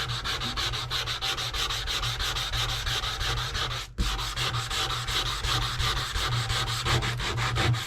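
Steady abrasive rasping of a planer blade being honed to a razor edge, continuous rhythmic strokes close up with a brief pause midway, no voices.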